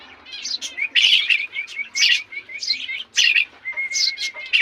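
A group of pet maya sparrows and kapagaw birds chatter nearby, a busy run of loud, overlapping chirps and tweets with a quick flutter of wings.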